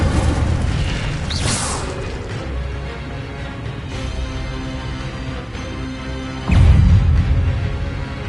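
Incendio fire spell cast in Hogwarts Legacy, a loud whooshing burst of flame, then a sustained low rumble and a second heavy boom near the end, with no talking.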